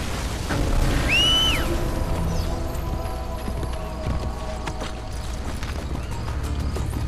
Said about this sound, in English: I'm just gonna call my horse and come behind him and run him over with the horse